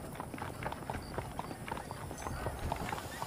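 Horse hooves clip-clop steadily in the 2010 video game Red Dead Redemption, a rhythmic run of hoofbeats mixed with background voices talking.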